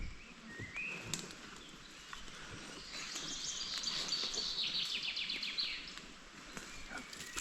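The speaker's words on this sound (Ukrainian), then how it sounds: "пташки співають яка." Faint birdsong carries from a distance in a forest in late May: rapid chirps and trills repeat over soft background hiss, with no talking.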